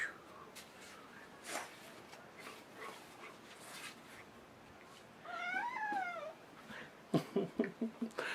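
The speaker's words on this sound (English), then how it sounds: "There's a kitty." A cat gives a drawn-out meow in the middle of an otherwise quiet room, followed by a few quick yips or short cries, all fairly close but soft, with faint background shuffling.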